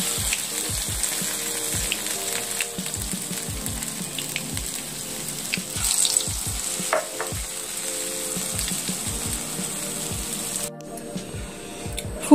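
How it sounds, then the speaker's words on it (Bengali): Cauliflower pakoras deep-fry in hot oil with a continuous bubbling hiss and frequent sharp pops and crackles, close and fairly loud throughout. "সব ফুলকপি আমি এখানে ভেজে নেব।"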